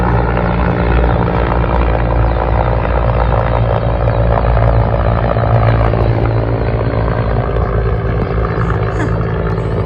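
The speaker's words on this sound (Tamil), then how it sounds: "ஹெலிகாப்டர் ஒன்று பார்த்து போயிட்டு இருக்கு பாருங்க." A helicopter's continuous rotor and engine drone hangs overhead near Tilam village, Arunachal Pradesh, loud and steady throughout, with faint voices beneath it.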